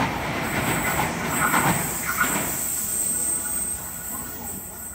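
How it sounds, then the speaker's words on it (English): A Sydney Waratah electric train comes in to a platform at night, rumbling wheels and a high steady whine with brief squeals, loud at first then easing as it slows. "We have a Waratah approaching platform number 2, Hornsby service."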